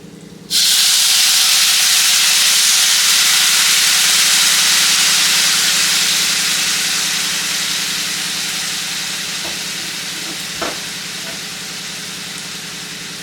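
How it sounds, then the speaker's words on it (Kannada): Tamarind juice hits a hot pan while making puliyogare, setting off an immediate loud, close hissing sizzle that slowly softens over several seconds, with a faint click or two near the end. "ಈಗ ಇದಕ್ಕೆ ಹುಣಸೆಹಣ್ಣಿನ ರಸ ಹಾಕೋತಾ ಇದ್ದೀನಿ"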